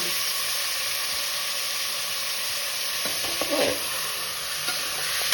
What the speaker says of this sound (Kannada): ಎಲ್ಲ ಹಾಕಿ ಒಂದು 5 ನಿಮಿಷ ಸಣ್ಣ ಬೇಯಿಸೋಣ